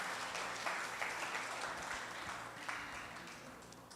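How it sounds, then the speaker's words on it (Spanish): An audience applauds for the actors at a Spanish-language talk, a dense, steady wash of many hands clapping at moderate distance for several seconds with no talking over it. "Un aplauso a mis actores, por favor."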